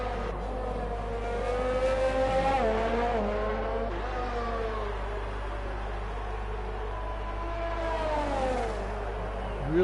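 An F1 2019 race car brakes while turning in the video game, with a tire lock-up. A high engine whine rises and falls over a steady low drone, with a brief squealing sweep near the end.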